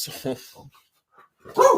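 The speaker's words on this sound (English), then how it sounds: "dogs have to get their word in." Nearby dogs let out a few short, loud bark bursts broken by a brief quiet gap, mixed with voice-like sounds.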